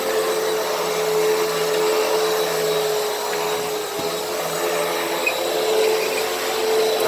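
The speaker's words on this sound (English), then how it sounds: "This is a big vacuum, made for larger areas." A Hoover Windtunnel upright vacuum cleaner runs steadily and loudly up close, a continuous motor whine and airflow roar with no breaks and no voices.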